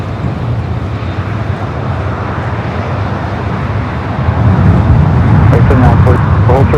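A Boeing 777 airliner arrives at LAX, its broad engine roar rising and growing louder toward the end as the plane draws near, with no break in the noise.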